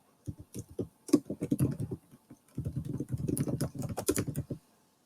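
Bursts of rapid clicking keystrokes on a computer keyboard, close and fairly quiet, come in two uneven runs separated by a short pause.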